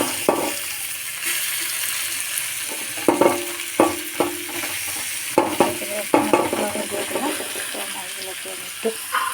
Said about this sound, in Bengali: আমি কড়াতে কিন্তু বসিয়ে রাখলাম হচ্ছে এখন আমি তাতে কিন্তু এই মাছগুলো অ্যাড করে দিয়ে দেবো